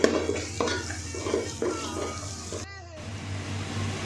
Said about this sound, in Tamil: இதில் போட்டு இதையும் இந்த நல்ல எண்ணெயில் நல்லா வணக்கி விட்டுடலாம்